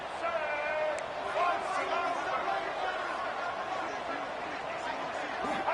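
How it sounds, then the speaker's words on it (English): A steady, dense stadium crowd roar from the EA Sports College Football 26 video game, a Texas State versus FIU matchup, runs continuously with clapping and chatter mixed in and a voice talking over it. "he's clapping and there's all this crowd noise"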